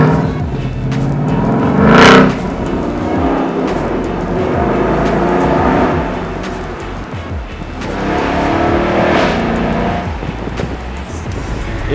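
A basic Ford Mustang convertible with a carbon-trimmed interior and an upgraded exhaust drives at the Top Marques Monaco show, its engine roaring loud and close with a sharp rev peak early on, then a sustained rumble and a second surge.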